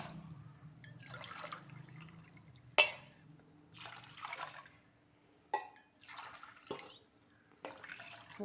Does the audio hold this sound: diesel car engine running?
no